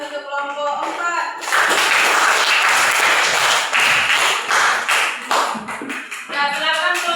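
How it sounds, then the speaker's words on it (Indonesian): Applause for a presenting group of students in a classroom: a dense burst of many hands clapping that swells and continues steadily, with some voices mixed in near the start and end. "beri aplaus untuk kelompok 4."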